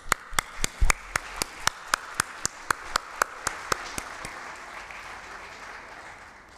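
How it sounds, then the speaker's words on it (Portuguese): At a formal solemn session awarding the Tiradentes Medal, about fifteen sharp, evenly spaced claps ring out in a steady rhythm, then give way to a fading roomy applause tail. "Palmas."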